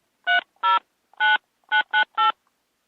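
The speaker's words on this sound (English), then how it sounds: "Hey, Boomer, can you dial Steve's phone number for me, please?" A phone number is punched in on a push-button telephone, six crisp DTMF tones beeping clearly in an uneven rhythm with short gaps, loud and isolated with nothing else heard.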